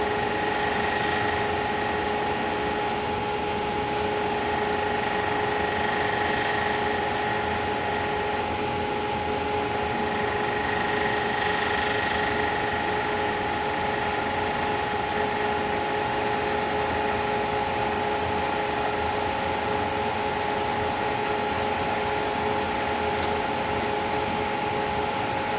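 Vacuum pump pumping down a sputtering chamber, a steady loud hum with constant tonal drone and hiss that continues unchanged throughout.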